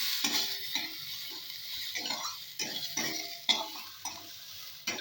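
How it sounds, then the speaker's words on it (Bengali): Rice tossed with a little turmeric in a pan, frying with a steady close sizzle broken by repeated soft scrapes and stirs of a spoon against the metal. "এবার চালটাকে ভালো করে ভেজে,"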